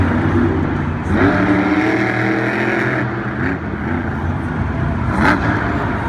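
The Great Clips Mohawk Warrior monster truck's engine roars steadily and loudly as it crawls across the racing lane at a Monster Jam event in San Antonio, with crowd and arena noise beneath it.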